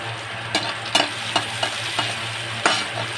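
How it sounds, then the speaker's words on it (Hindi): Onions frying in a pressure cooker for jackfruit curry, a constant close sizzle with sharp intermittent scrapes and clinks of a spoon stirring against the metal. "अब आपका प्याज भून रहा है।"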